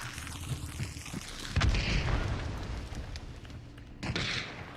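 A thrown bomb exploding in Hunt: Showdown, a heavy low boom rising midway and rumbling as it fades, followed by a second sharper bang near the end, with no talk.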